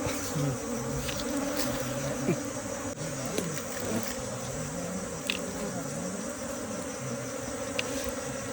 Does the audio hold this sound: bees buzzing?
yes